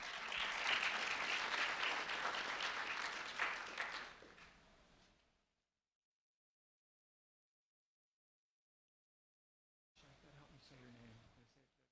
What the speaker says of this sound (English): Round of applause for Alicia, please.